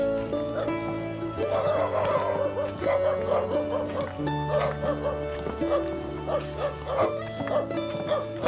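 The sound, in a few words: dogs barking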